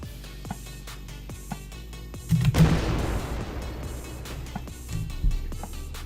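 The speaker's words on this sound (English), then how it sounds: "That's the stock explosions" A single loud explosion from stock Unreal Engine 4 effects bursts out in a video game, followed by a rumbling decay over a faint musical background.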